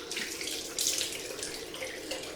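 Cold water runs steadily from a tap during a head shave, splashing close by with a bright hiss and small surges.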